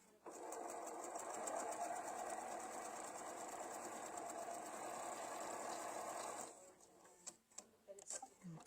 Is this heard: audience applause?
no